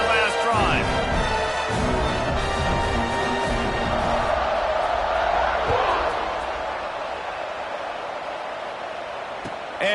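Football stadium crowd roaring in a loud, sustained wash after a scoring drive and extra point, with a game announcer talking over the cheering before it gradually eases off.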